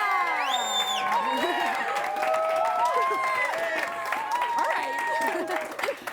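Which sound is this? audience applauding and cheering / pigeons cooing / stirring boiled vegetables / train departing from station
audience applauding and cheering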